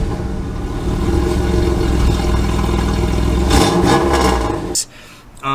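A 2001 fourth-generation Pontiac Firebird engine revs loudly with a throaty exhaust rumble, holding steady before surging, then cutting off abruptly and briefly restarting near the end.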